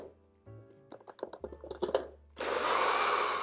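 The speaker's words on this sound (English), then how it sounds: "You just need to get this blended so that the onions are completely pulverized." NutriBullet blender pulverizing onions for vegan Bombay potatoes: clattering chops as the blade catches the pieces, then a loud steady whirring roar as the motor runs smoothly at full speed.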